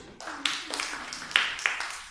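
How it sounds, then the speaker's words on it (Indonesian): A classroom claps for a group of students: a handful of sharp, scattered hand claps in an uneven rhythm, fairly close, with a faint murmur of voices underneath. "Tepuk tangan untuk kelompok 1."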